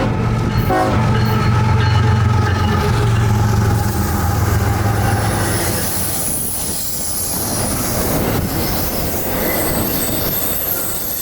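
CSX I-142 hotshot intermodal freight train from Jacksonville to North Baltimore, Ohio, rolling past on the Chattanooga Subdivision: loud, steady rumble of wagons and wheels with squealing flanges, a horn-like tone early, heard up close without talk.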